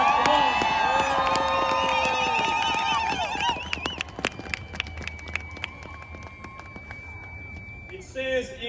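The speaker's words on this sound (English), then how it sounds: "Give yourselves another round of applause." Rally crowd in Washington DC cheering and applauding, with sustained shouts and whoops at first, then scattered claps and a lingering high tone, with voices mixed throughout.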